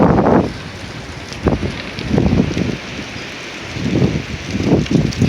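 Roaring gusts of a windstorm on the northern Oklahoma plains, surging in loud buffeting bursts against the microphone with brief lulls between, near and overwhelming.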